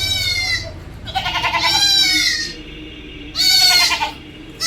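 A dairy goat with a good udder, kept with its three kids, gives three loud, close bleats with quieter pauses between them.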